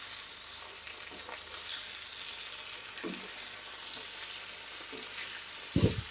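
Roughly chopped medium tomatoes hit hot oil with softened onions in a home kitchen pan, a steady close sizzle with a few brief stirring scrapes and clatters, no talking.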